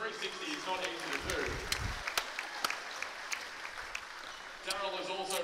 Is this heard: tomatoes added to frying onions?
no